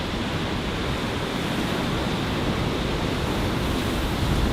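Surf washes steadily onto a beach in Sri Lanka, a broad continuous rush of breaking waves holding an even, fairly loud level throughout with no voices.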